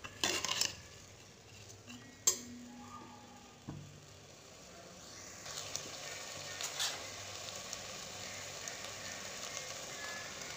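Green peas being stirred slowly in a pulao pot in a pressure cooker, with soft scraping and clinking from the spoon against the metal, a few sharper knocks, and a low kitchen hum.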